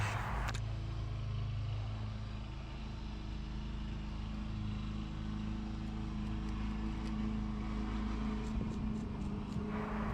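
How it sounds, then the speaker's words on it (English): A lawn mower drones steadily in the background outdoors, a continuous low engine hum that stays fairly faint and even throughout, with no talk. "Yeah, I know you can hear the guy mowing his lawn in the background."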